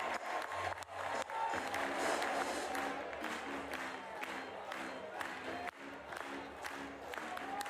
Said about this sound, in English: And a raucous crowd.